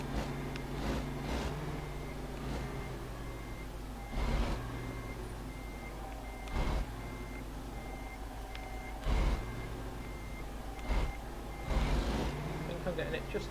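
Truck reversing beeps repeat at a steady pace in American Truck Simulator, set in Washington, with a low engine rumble underneath and occasional thumps and brake hisses.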